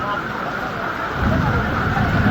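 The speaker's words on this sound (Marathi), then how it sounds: "एकदम तुफान असा पाऊस पडतोय बघा बाहेरचं वातावरण" Heavy rain pours outside during a village wedding in the Konkan countryside, a steady dense hiss that swells louder partway through, with no clear speech over it.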